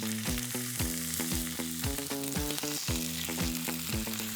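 Salmon fillet laid skin down in an oiled pan crackles with a bright, continuous sizzle, close and steady, overlaid with a clear repeating musical pattern.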